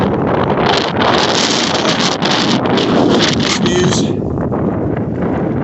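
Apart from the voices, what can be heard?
strong wind howling on a mountain summit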